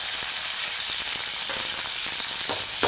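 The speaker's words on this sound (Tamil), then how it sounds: "அதை நல்லா வதக்கிக்கலாம்." Chopped tomatoes and coriander leaves sautéing in hot oil in a pan for chicken gravy, a loud, close, continuous hiss with faint stirring scrapes near the end, no voices.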